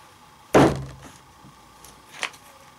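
A hard-use knife stabs into a test target with one loud, heavy thunk up close, then a fainter knock a moment later.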